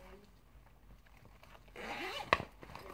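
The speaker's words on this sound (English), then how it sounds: "It has another pocket, what you can undo with the zip." A zipper is pulled open on the pocket of a shiny Smiggle pencil case, a short rasping run ending in a sharp close-up tug, faint and alone.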